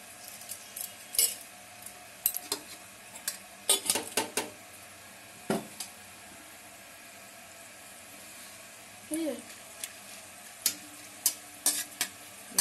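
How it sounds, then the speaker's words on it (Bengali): Dried red chillies, whole garam masala and bay leaves tempering in hot oil in a home kitchen: a soft, steady sizzle beneath scattered sharp clinks and scrapes of a metal spoon against the pan, with no talk. "তো এখানে আমি শুকনো লঙ্কা, গোটা গরম মশলা, তেজপাতা আর গোটা শুকনো লঙ্কা ফোড়ন দিচ্ছি।"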